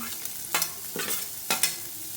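Onions frying over a medium flame for crispy corn, a continuous sizzle broken by several sharp stirring scrapes in an irregular rhythm, close and moderately loud, no talk.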